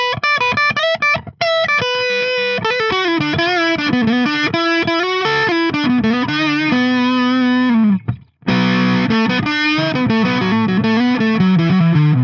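Ibanez Gio budget seven-string electric guitar on its neck humbucker through heavy distortion, loud chugging riffs and chords ringing out continuously, with one brief drop to silence before playing resumes.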